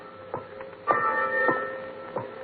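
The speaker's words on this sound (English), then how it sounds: "Why is that bell ringing, Lamont?" A ship's fog warning bell clangs at uneven intervals, four or so strikes with lingering metallic ringing over a muffled background hum.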